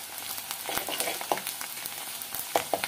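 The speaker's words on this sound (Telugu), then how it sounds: "ఉల్లిపాయలు వేగుతుంది కదా" Medium-sized onions with green chillies fry in hot oil for a mushroom curry, giving a continuous bright sizzle broken by a few sharp crackles and pops. The sound is close and steady, with no speech.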